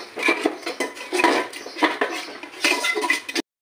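Curry masala being sautéed in a pot, dominated by loud, rapid metal clanks and scrapes of a spoon against the pot in an uneven rhythm, close up and without speech, ending abruptly.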